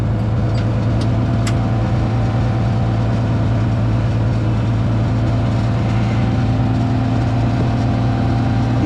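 A farm tractor engine runs steadily throughout, a loud, close, continuous low rumble with a constant drone while planting corn in the field.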